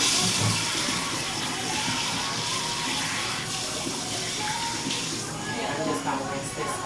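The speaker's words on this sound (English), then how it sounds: "I'm just gonna rinse this out." Water runs steadily from a tap while natural hair is rinsed out, a broad continuous hiss of flow with small splashing shifts, close by and filling the whole stretch, with a voice talking faintly underneath.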